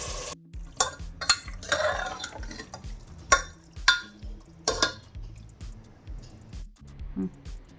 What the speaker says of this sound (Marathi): याच्यामध्ये आता आपण मटण टाकून छान हलवून घेतलेलं आहे